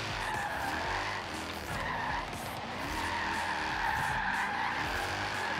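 Drifting car in Forza Horizon 3, its tires skidding and squealing in a steady sustained screech over engine noise, continuous and fairly loud throughout with slight swells.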